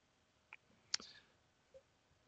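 A computer mouse clicks the OK button: a few faint, brief clicks, isolated in a quiet room with no talking.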